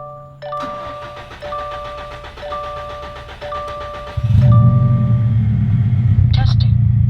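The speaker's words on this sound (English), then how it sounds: "Gonna go ahead and start the car." Subaru WRX STi fitted with a Cobb Accessport V3 tuner: repeated warning chimes sound, then the engine cranks and catches into a loud, steady idle, with talking early on.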